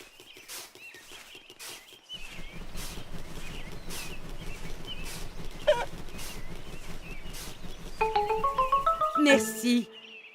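Hens cluck in the My Friend Peppa Pig video game, short bird calls popping up over a busy game soundtrack with bright chiming tones near the end.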